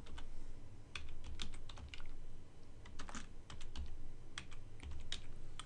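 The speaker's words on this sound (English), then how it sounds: "let's just type in our keyword" Fingers type on a computer keyboard while entering a keyword into a Google AdWords search tool, giving a steady run of quick, close clicks in irregular bursts with short pauses and no speech.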